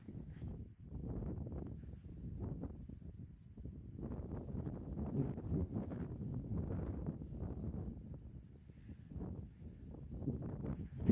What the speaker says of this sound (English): Wind is coming up.